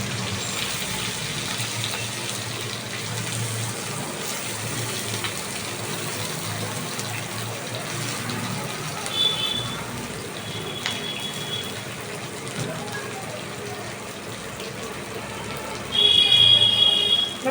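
Chopped onion sizzles in a pan of oil for a mustard rohu fish curry, a steady moderate hiss with a few brief bright crackles and a louder burst near the end.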